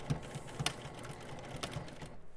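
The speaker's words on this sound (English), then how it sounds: "needle down and back to a normal stitch, and then on this side, the striped side, back stitch" A sewing machine back stitches a fabric seam on a striped bag, making a quiet mechanical whir with soft, quick needle taps close by.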